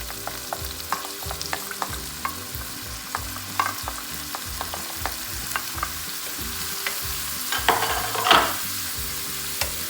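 Red and green peppers fry in a pan for a home-cooked green bean and meat stew, a steady sizzle under repeated scraping stir strokes, with a louder clatter near the end.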